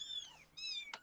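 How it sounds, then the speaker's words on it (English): Kittens cry with two short, high, tonal meows in quick succession, faint and alone against a quiet background. "Kitties are crying."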